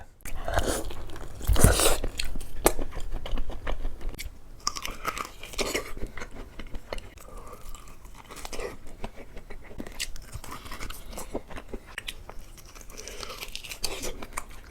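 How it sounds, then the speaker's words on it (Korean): Meat is gnawed off a large pork rib bone, close wet biting, tearing and chewing sounds in irregular bursts, with some brief vocal sounds mixed in. "이 또 뼈에 붙은 고기가 또 다른 맛이 나기 때문에 한번 먹어보겠습니다"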